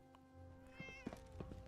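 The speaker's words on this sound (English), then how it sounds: "You're cool because you got a kitty cat." A single drawn-out meow from a cat in Fallout 4, rising then falling over soft game music, near and clear.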